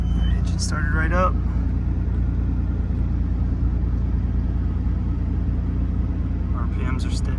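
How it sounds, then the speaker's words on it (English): A Nissan Skyline R32 GT-R with 125,000 km and a Nismo muffler idles right after a cold start, a steady, quiet low rumble throughout, with brief voices near the beginning and end. "Engine started right up."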